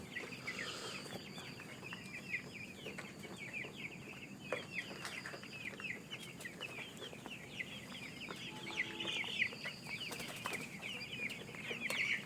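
Broiler chicks cluck and peep continuously in a poultry shed, a steady, fairly faint chorus of many small birds, with no talk over it.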